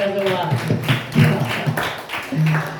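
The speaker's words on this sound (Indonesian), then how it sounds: "Ayo kita tepuk tangan dulu buat mereka semua." An audience at a Qur'an quiz final claps for the competing teams, a loose burst of hand claps in an indoor hall mixed with voices and chatter.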